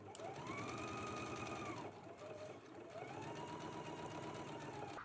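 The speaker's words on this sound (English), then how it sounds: "Let's go ahead and stitch it in place now." A sewing machine stitches a 5/8 inch seam across several fabric layers of a yoke, whirring steadily in two long runs with a short slowdown between them, close and alone.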